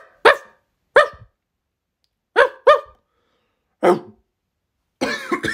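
A dog in a video game barks in five or six sharp, separate bursts spread over a few seconds, with a rougher, longer burst at the end. The barks are close and loud, with silence between them.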